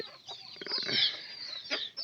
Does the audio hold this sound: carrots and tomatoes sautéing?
no